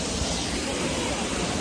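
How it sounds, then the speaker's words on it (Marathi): A waterfall near Gangtok gives off a dense, steady rushing roar that fills the whole short stretch, close and unbroken. "धबधबा"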